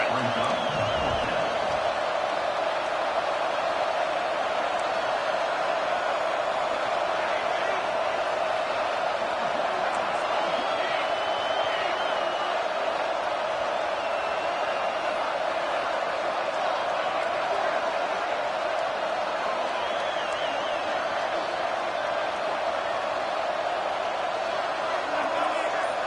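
Dense, steady stadium crowd roar at a college football game, a loud, sustained wash of noise that holds without a break as the home fans rock the place on a fourth-down play.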